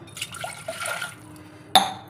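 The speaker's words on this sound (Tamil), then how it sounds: "இந்த குக்கரில் ஒரு டம்ளர் தண்ணி ஊற்றிக்கலாங்க" Water splashes and trickles briefly into a metal pressure cooker, followed by a sharp clink of metal near the end.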